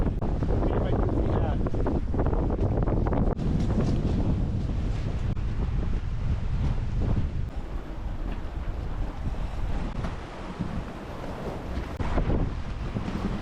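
A sailboat under way on open water between Grenada and Martinique, with constant loud wind buffeting the microphone and a broad rushing wash of waves against the hull throughout.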